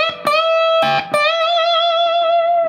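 An overdriven electric guitar plays lick three of the solo: a few sharp picked attacks, then one long, loud sustained bent note ringing out alone.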